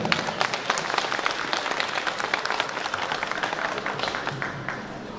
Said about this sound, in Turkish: Alkışlarınızla.